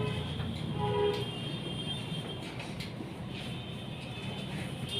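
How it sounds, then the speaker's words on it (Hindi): A train travels north along a railway at a distance, a steady broad rumble of wheels and wagons that fills the whole stretch at an even level, with no voices. "देखो एक रेलगाड़ी उत्तर की ओर जा रही है"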